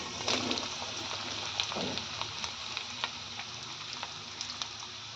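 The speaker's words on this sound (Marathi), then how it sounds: "लसणाला तडका आला की यावर मिश्रण केलेलं कारलं घालून घ्यायचं आहे तर आता या प्रोसेसला मी यामध्ये कारलं घालत आहे" Bitter gourd tipped into hot oil tempered with garlic, crackling and sizzling steadily in the pan, with faint stirring pops throughout.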